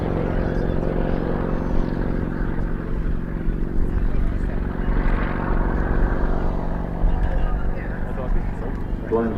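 Bristol 171 Sycamore helicopter at the Farnborough International Airshow 2018, its engine and rotor making a steady, loud, droning hum with faint rhythmic pulsing, while a commentator talks over it throughout.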